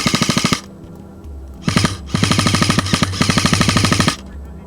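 An airsoft M60 machine gun fires in long rapid bursts, close and loud, its rattling rhythm cut by a few short pauses; no voices.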